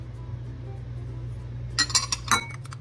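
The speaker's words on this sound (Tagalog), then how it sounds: "haluin natin para matunaw yung white sugar na nilagay natin" A spoon clinks several times against a container as white sugar is stirred into a dipping sauce of warm water, lemon juice and fish sauce. The bright taps come close together after a quiet, humming stretch.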